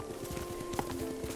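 Horse hooves clopping in a steady, rhythmic gait while riding in the video game Ghost of Tsushima, close and continuous, with soft ambient game music underneath.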